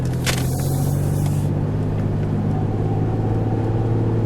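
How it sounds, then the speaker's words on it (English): A 2001 Ford Explorer Sport with its original engine and transmission cruises along a road at over 333,000 miles, giving a steady, loud interior drone of engine hum and tire rumble with no talking. "So here we are, we're driving along."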